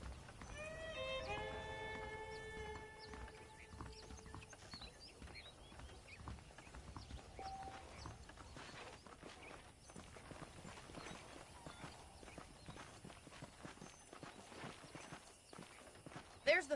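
Horse hooves clip-clop steadily in Red Dead Redemption, a walking rhythm that runs under music and a voice talking throughout.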